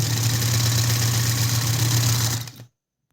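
A Minerva M3040 sewing machine, not yet oiled, running steadily with a loud mechanical whir and rattle, then abruptly stopping.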